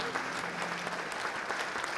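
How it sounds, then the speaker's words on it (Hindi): Clapping from a small group at a family Ganesh festival gathering, steady and continuous for the whole stretch, fairly close, with faint voices mixed underneath. "तालियां।"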